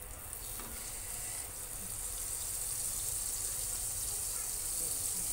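Butter sizzles and fries in a hot pan for butter chicken gravy, a steady bright hiss that stays even and close throughout, with no one speaking.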